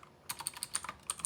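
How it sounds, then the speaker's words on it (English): Quick bursts of typing on a computer keyboard, about a dozen light clicky keystrokes in an irregular rhythm, close and fairly quiet with no talking. "Pardon my typing, I'm typing around stuff."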